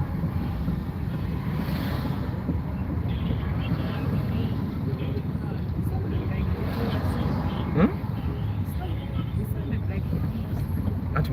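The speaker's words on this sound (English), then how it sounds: "I'm driving on a highway." Car cruising on a highway, a continuous low rumble of road and wind noise with buffeting, steady and unbroken throughout, with a brief sharper sound near the end.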